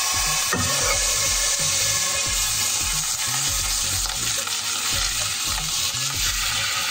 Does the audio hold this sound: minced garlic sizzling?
yes